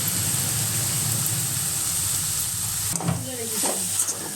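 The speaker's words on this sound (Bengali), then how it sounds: "পোস্তটা দিয়ে আমাকে 2 মিনিট মতো নাড়াচাড়া করে নিতে হবে।" Ground poppy seed paste cooking with potato in a pan for a Bengali ponka greens posto dish: a steady close sizzle, then a few scraping strokes of a spatula stirring near the end.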